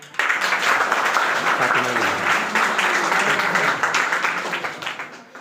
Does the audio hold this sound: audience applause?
yes